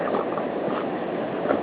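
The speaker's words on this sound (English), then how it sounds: "Wind is making some good noise too." Wind gusts roar steadily against the microphone during a heavy blizzard with snow blowing sideways, a dense, rumbling rush that swells slightly near the end.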